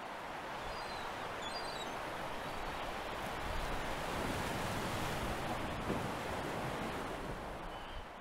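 Ocean waves churn and wind roars during a heavy storm at sea, a dense continuous rushing that swells slightly in the middle, with no voices.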